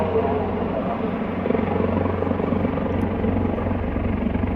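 Helicopter flying over a mountain near Dobongsan, its steady rotor and engine drone loud and continuous throughout with a low pulsing thump, no talk.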